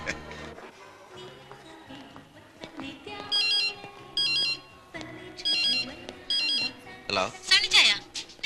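A phone ringtone plays in a Malayalam drama scene as repeated short electronic tone bursts in several bursts, with talk and background music around it.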